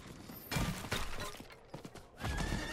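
A horse mount in the video game Diablo IV gives a whinny while its hooves clip-clop, the neigh and hoofbeats close and clear over game ambience.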